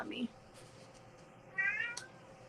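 A cat gives two short, faint meows about a second and a half apart in a quiet room.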